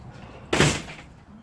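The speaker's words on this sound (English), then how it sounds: "while I close the door." A door shuts once with a short, solid thud that fades quickly in a quiet indoor room.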